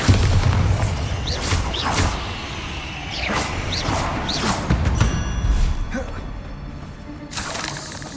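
Bombarda spell blasts in Hogwarts Legacy, several heavy booming explosions with crashing debris and shattering, spaced irregularly over several seconds amid game effects, with a voice calling out spell names between them.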